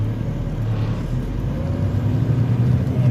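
Chicago road traffic heard from inside a truck cab: a steady low engine rumble and road drone with passing vehicle noise, continuous and fairly loud, no talking.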